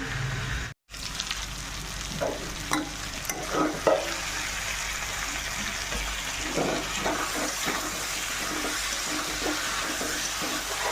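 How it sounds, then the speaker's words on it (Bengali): Potatoes and eggs frying with ground garam masala in a covered pan, giving a steady close sizzle with occasional stirring scrapes and a brief dropout near the start, no voices. "মশলাটাকে ভেজে নেব আলু ডিমটাকে"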